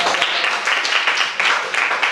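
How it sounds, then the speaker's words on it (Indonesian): A school class applauds together in a classroom, dense steady clapping that stays loud and close for the whole stretch, with no talking. "Berikan tepuk tangan untuk mereka semua ya"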